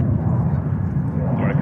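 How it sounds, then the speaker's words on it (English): A Cathay Pacific Airbus A350-900 jet departs from runway 22, heard as a steady low, broad jet-engine roar at a moderate distance, with a voice speaking over it. "we have runway 22 departure, and we have currently Cathay Pacific 350-900 departing"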